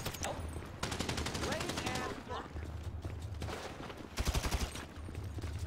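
Gunfire in GTA 5 during the Doomsday Heist secret agent rescue mission, including sniper rifle shots: rapid bursts of shots with a cluster of sharp, loud cracks near the end against a busy battle background.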